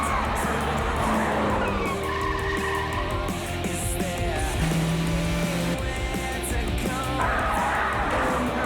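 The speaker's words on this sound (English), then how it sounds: "Should you be racing on a runway like that?" Race cars roaring and skidding with squealing tires on an airport runway in a video game trailer, engines loud and continuous throughout, with faint yells mixed in.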